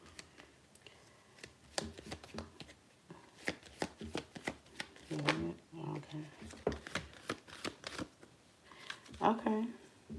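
Tarot cards riffled and shuffled by hand at close range, quiet crisp bursts of flapping and tapping in irregular clusters, with a soft voice occasionally murmuring between shuffles.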